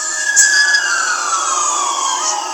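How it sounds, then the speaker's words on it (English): A siren wails steadily at moderate distance, its pitch sliding gradually downward as it passes, with no voices present. "As we hear a siren going by right now"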